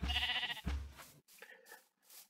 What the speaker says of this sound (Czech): Tak máme tady postavený ty ohrady s ovcama a kravičkama.